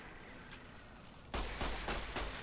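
Gunfire in Fallout New Vegas, starting halfway through as a sudden loud, rapid burst of repeated shots that continues to the end, following quieter background ambience.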